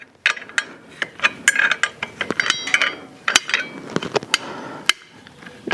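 Wrench loosening a big nut on a Harley-Davidson, heard up close as a series of sharp metallic clicks and knocks in an irregular rhythm with short pauses between them.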